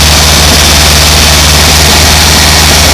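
Volkswagen 2-liter engine running on a test stand, a loud, continuous low rumble with a steady hum and a broad roar over it, with no voices.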